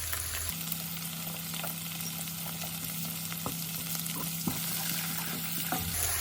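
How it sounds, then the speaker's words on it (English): Onions and locust beans stir-fry in a pan for a vegetable stew, giving a steady close sizzle with occasional clicks and scrapes of stirring, no voices. "So it's time to add it to my onion and stir fry."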